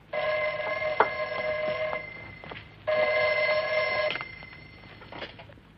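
An old telephone bell rings in two long bursts separated by a short pause, clear and close in a quiet room, with no talk over it.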